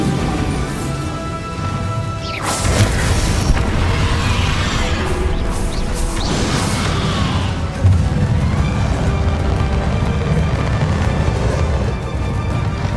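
Heavy blasting-spell explosions from Bombarda in Hogwarts Legacy, loud booming crashes, one big hit early and another midway, over a constant roar of combat noise and music.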